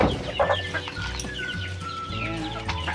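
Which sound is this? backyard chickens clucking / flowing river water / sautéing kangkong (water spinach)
backyard chickens clucking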